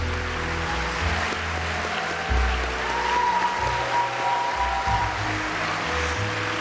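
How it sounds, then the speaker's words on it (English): A crowd at an awards luncheon claps steadily throughout, a dense wash of applause at an even level that neither builds nor fades. "give an extra round of applause"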